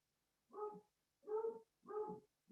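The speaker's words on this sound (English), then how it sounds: "I also apologize if you can hear my dog barking." A pet dog barks downstairs in a house, a series of separate distinct barks in a steady rhythm, fairly clear and moderately loud against a quiet room with no talking.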